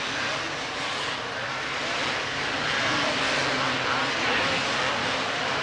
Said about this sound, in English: Howerton put the coals to the Suzuki.